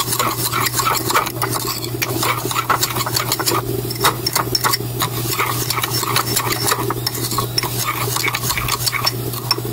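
Stirring ingredients for Cuban coffee: fast, steady spoon clinking and scraping against a cup, close and continuous over a low constant hum.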